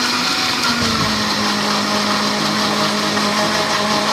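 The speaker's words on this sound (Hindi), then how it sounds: "ताकि ये अच्छे से ब्लेंड हो जाए" A kitchen blender whirs steadily and loudly, pureeing harees ingredients with a little added water, a continuous motor drone with no talk.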